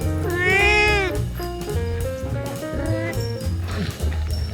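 Cats meowing around the grounds of Myojeoksa, a Buddhist temple, in a series of close, loud, drawn-out meows with rising and falling pitch, one after another and without speech.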